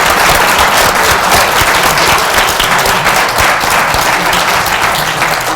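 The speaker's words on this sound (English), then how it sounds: "join me in a round of applause for our panel" Loud, dense applause from a seminar audience for a panel on predictive models of human diseases, sustained evenly and close.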